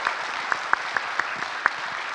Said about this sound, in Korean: 수고한 거에 대해서 박수 한번 크게 쳐주세요.